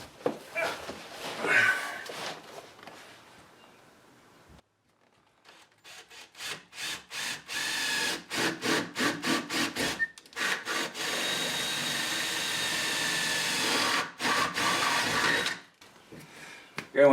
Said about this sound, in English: when you do our drilling, make sure you try to do a straight through hole